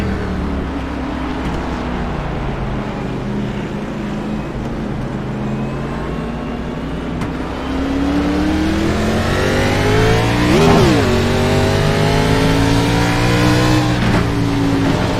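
Race car engines roar around the short Bristol oval in iRacing, a steady loud drone of several cars with rising and falling pitch as they accelerate, one car sweeping past near the middle before the revving builds again.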